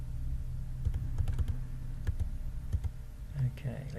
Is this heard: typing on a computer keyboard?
yes